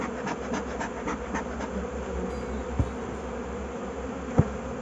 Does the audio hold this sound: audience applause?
no